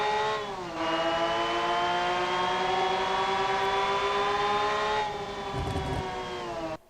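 A steady, droning car engine in BeamNG holding a constant pitch, with a hollow, reverberant echo; the note dips briefly, then continues before cutting off.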